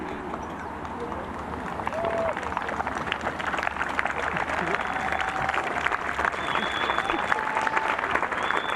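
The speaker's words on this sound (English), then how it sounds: "Generous applause for Holly Clyburn. Enthusiastic support for Leanne Pace." Steady, sustained applause from an outdoor golf crowd as players reach the 18th green, dense clapping rising slightly and holding, with a few voices and cheers mixed in.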